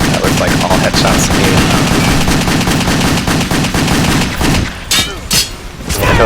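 Loud continuous gunfire from the video game WET, rapid shots blending into a dense barrage that breaks into a few separate heavy blasts toward the end.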